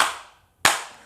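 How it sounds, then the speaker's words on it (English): Sharp, close hand claps ring out in a quiet room, each crisp smack followed by a brief fading tail, with no talking. "I'm gonna do the 3 claps today"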